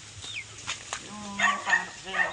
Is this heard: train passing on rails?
no